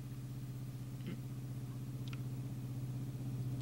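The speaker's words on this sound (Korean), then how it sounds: "차 소리 처음 들어요?" A car passes outside during a quiet indoor scene in 1980s Korea, a low steady rumble throughout that swells louder toward the end as the vehicle draws near.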